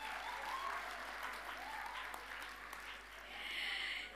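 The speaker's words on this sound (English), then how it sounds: "give a warm round of applause" Audience at a spring graduation ceremony breaks into warm, sustained applause, a dense wash of many hands clapping that swells slightly near the end, with faint voices in the crowd.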